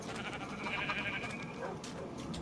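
Sheep bleat in a Minecraft survival world, soft repeated calls buried in a dense, steady wash of game ambience and hiss, with no clear gaps or talking.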